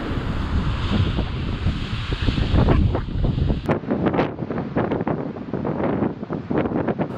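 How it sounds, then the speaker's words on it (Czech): Strong wind roars and buffets the microphone at Slope Point on New Zealand's southern coast, a loud continuous gusting rush with surf churning beneath it and no voices. "Foukal tu tak strašný vítr, že se nedalo vůbec jít."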